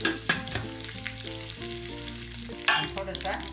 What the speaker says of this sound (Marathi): तेल तापलं ना जिरं टाकले थोडीशी मोरी टाकली आणि आता आपण हे कढीपत्ता टाकला